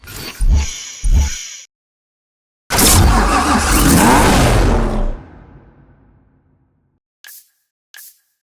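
Porsche 911 Turbo S Cabriolet in the Need for Speed Hot Pursuit video game: two short loud engine blips, then a long roaring rev that fades away, followed by two brief faint clicks.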